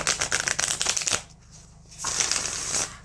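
A slippery tarot deck is riffle-shuffled up close, with a quick burst of crisp card flutter, a short pause, then a second softer run of shuffling.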